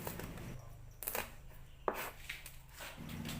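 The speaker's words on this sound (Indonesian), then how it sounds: "3 biji cabai rawit diiris serong." A knife slicing bird's eye chilies diagonally on a cutting board, giving a few separate soft chopping taps spaced irregularly over a quiet background.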